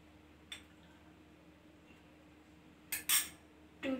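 A spoon stirs ingredients in a cup set inside a pan, giving a few faint, sparse metallic clinks and taps, with a quick cluster near the end, in an otherwise quiet room.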